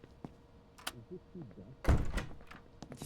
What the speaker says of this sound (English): You just locked the door again.